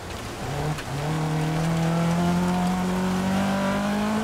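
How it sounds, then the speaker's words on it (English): A rally car in the EA Sports WRC video game loses control through a hairpin corner on a safari stage, its engine droning loud and steady while revving with a rising pitch throughout. "going through that hairpin corner, completely lost control of the car there."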